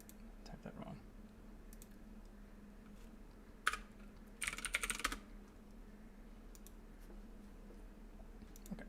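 Typing on a computer keyboard, faint quick clicks in short bursts with a couple of louder clusters of keystrokes, close and quiet over a low background hum.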